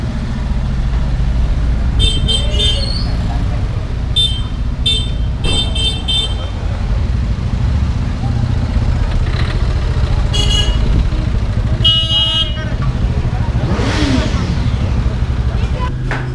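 Car horns honk repeatedly in a traffic jam in India, short and long toots from several vehicles scattered over steady engine and street rumble, with a passing motor whine near the end.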